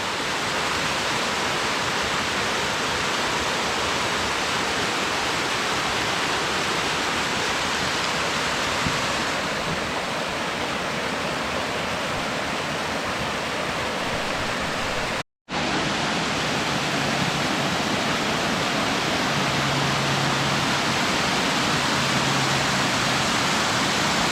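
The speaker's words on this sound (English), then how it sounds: "I don't know if there's even a name for this waterfall, y'all." A waterfall along the Foothills Trail gives a steady, dense rushing roar that runs without pause, apart from one brief dropout partway through.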